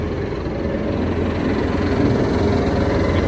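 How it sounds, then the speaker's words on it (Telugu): A back-mounted water pump motor on a water tender runs at a steady idle. Its low, continuous engine drone and vibration hold evenly, close and loud throughout, with no talk. "ఇప్పుడు ఇక్కడ మోటార్ స్టార్ట్ అయింది."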